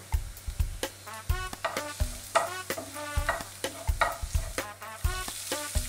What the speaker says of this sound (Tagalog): At isauté natin ang ating garlic into a medium heat